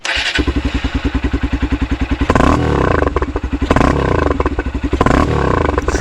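A Honda XR150L motorcycle engine cranks and starts with a rapid pulsing chug, then gets blipped with a few loud revs before dropping back to a lumpy idle.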